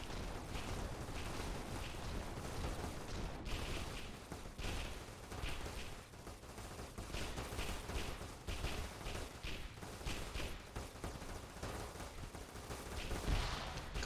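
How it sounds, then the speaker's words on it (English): Heavy weapons fire rattles through an Arma 3 battle with a Warhammer 40k mod, dense and continuous, with repeated gun bursts and booming blasts at moderate distance. "That is a lot of weapons fire."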